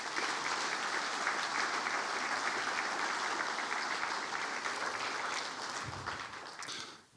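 Audience applause fills a ceremonial session of the Tolmin municipal council, steady and loud from start to finish, then fading at the end.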